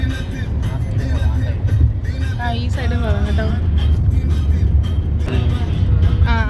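A family rides in a car, a continuous low engine and road rumble steady throughout beneath close, lively conversation among several people.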